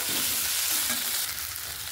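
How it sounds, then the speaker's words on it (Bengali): Soybean chunks and potato frying with spices in a pan, giving a continuous close hiss and sizzle with soft stirring, no voices. "এখানে সয়াবিনের সঙ্গে আলুটা একটু সুন্দর করে কষিয়ে নেব।"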